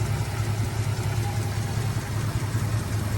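A 1965 Ford Ranchero Deluxe with its 289 V8 idles steadily at close range, a continuous low, even rumble with a faint lope and no talk over it.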